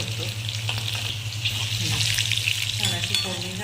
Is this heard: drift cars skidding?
no